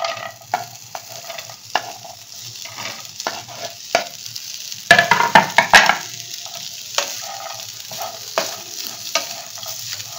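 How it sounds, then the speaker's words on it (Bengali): Chopped celery and other vegetables are stirred in a frying pan: a low, soft sizzle sits under a steady run of spatula taps and scrapes, with a busier cluster of clatter partway through. "এগুলো একটুখানি নেড়ে নিচ্ছি।"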